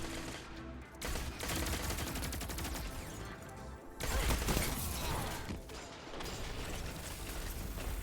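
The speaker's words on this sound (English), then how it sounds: "Shotgun did its thing." Shotgun blasts and other weapon fire from the Destiny 2 video game, heavy repeated bursts with mechanical clacks in a busy, loud battle mix, no talk over it.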